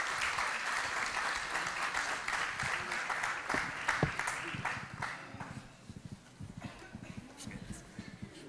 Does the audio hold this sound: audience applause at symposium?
yes